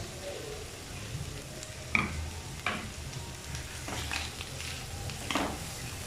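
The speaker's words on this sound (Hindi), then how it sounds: "इसको मज़ीद 2 मिनट तक हम सौते करेंगे" Chicken pasta sauce with black pepper and mixed herbs sautéing in a pan over low flame, a soft steady sizzle with a few sharper stirring scrapes standing out, moderately close.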